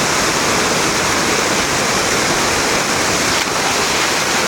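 Fresh water rushing steadily over stones at an outdoor laundry spot, a loud, continuous broadband wash of flowing water with no break and no voices.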